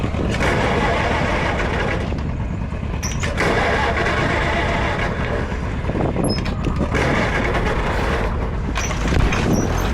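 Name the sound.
Cub tractor engine running while plowing, then stalling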